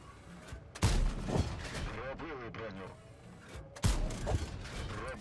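Two heavy tank cannon blasts in World of Tanks about three seconds apart, each followed by rumbling mechanical noise, with a voice talking underneath.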